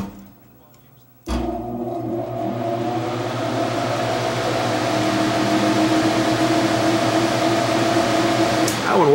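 A Carrier furnace blower motor with a snapped bracket, wired to run on low speed, kicks on abruptly and settles into a loud, steady whirring hum that continues close by for several seconds.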